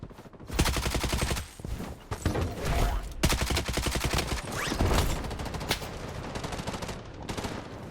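UMP submachine gun bursts in the shooter game Blood Strike, rapid repeated shots in several volleys with brief gaps, loud and close throughout.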